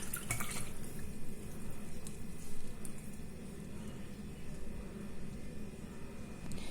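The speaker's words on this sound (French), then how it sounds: "maintenant je vais passer ce mélange dans une passoire" Strawberry mojito mixture with lemon, poured over tea through a strainer, a continuous liquid pour and trickle with a faint splash at the start, steady and close.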